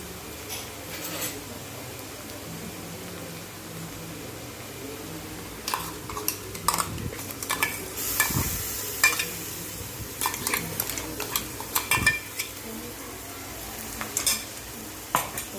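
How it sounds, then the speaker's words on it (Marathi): Ground masala paste added to fried onions and stirred in a pan for a dry kurdai vegetable dish, a constant sizzle under bursts of spoon scraping and clattering against the pan, close and busy, with no talking. "आता आपण याच्यामध्ये वाटण घालून घेऊ"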